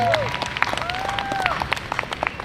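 An audience applauds a band, a dense patter of clapping heard close and fairly loud for a couple of seconds, with a few voices and faint whistle-like tones mixed in.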